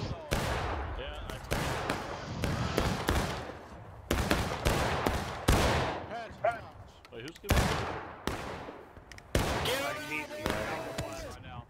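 Musket volleys boom in a War of Rights battle, with loud, close gunshots and ragged volleys cracking in quick succession and echoing, some shots overlapping while others fire singly across the field.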